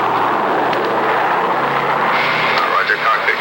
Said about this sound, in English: Our C-124 is flying totally blind through a treacherous ice-fogged mountain